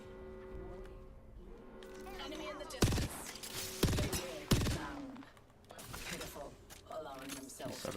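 Gunfire in the video game Apex Legends comes in three sharp, loud shots spaced about a second apart amid mechanical game sounds, with an in-game voice talking underneath.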